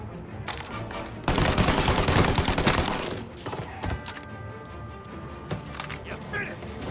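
Gunfire from the Mafia: Definitive Edition game: a dense, loud burst of rapid shots that carries on for about two seconds, then thins out into scattered single cracks, with voices heard through the shooting.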